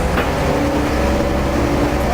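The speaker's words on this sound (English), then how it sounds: "Inside the bus." Inside a moving London bus: a loud, steady engine rumble and road noise fill the cabin with a faint tonal whine, continuous throughout.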